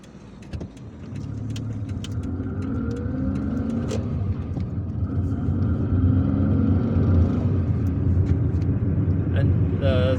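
Car driving through city streets in the Biar district of Algiers, a steady engine rumble and road noise that swells slightly as it picks up speed, with someone talking over it throughout.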